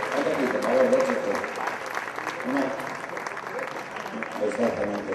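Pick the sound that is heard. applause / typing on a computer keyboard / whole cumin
applause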